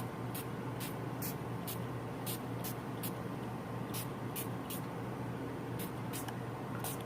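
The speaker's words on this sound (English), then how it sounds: "before I do it, I want to just give it a spritz" Short spritzes from a spray bottle misting ink onto paper during mixed-media art work, a dozen quick bursts coming in irregular clusters over a steady low background hum, with no talking.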